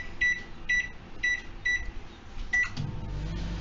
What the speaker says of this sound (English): now we are going to cook them on combination mode on grill and microwave for 180 degrees and for 15 minutes